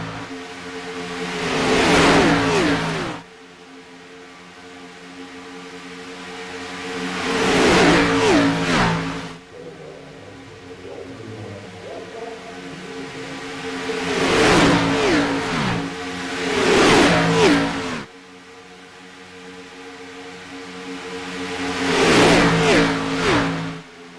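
Race cars run three wide in a superspeedway video game race, engines swelling as packs pass and fading between, several repeated surges of loud, droning engine roar with no talking.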